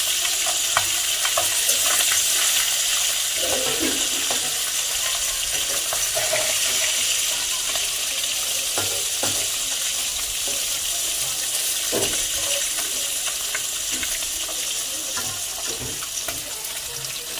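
Fish sizzles and spits in hot oil in a home kitchen, a loud continuous frying hiss with scattered crackles and pops throughout.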